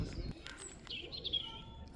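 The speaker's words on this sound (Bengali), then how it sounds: "শুনতে পাচ্ছেন পাখির ডাক" Birds chirp faintly in a forested wildlife park in Düsseldorf, giving a few thin, distant tweets over a low, quiet outdoor background.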